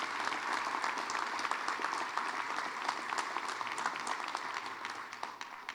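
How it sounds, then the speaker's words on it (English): A crowd claps in sustained applause at the opening ceremony of a recovery center, steady dense clapping from a room full of people, fading slightly toward the end. "Let's give Tim a big round of applause for investing in the region."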